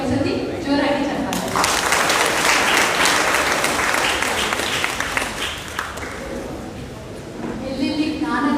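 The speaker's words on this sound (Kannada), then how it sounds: "ಸೊ ಆ ಪ್ರಕೃತಿ ಪಂಚತತ್ವಗಳಿಗೆ ಒಂದ್ಸತಿ ಜೋರಾಗಿ ಚಪ್ಪಾಳೆ." Loud audience applause fills the hall, sustained clapping from a large crowd at a speech on meditation, rising after a voice and fading as talking resumes.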